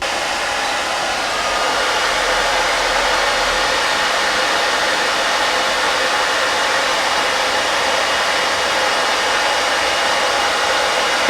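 A hair dryer blows steadily and loudly throughout, a continuous broadband whoosh up close with no pauses or talk, used to dry a pumpkin art craft piece.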